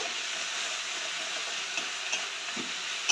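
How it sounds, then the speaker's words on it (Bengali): Spice paste stirred and frying in a pan for an egg, potato and cauliflower curry, giving a steady close sizzle with a few faint scrapes of the spoon. "এই জন্য ভালো করে মশলাটা কষাবো"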